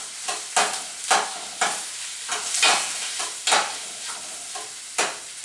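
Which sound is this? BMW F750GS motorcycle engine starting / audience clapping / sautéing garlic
sautéing garlic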